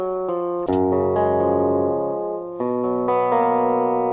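A virtual guitar plugin plays an arpeggiated melody with two notes swapped: sustained plucked tones change in uneven steps over about four seconds, ringing and overlapping, clean and close.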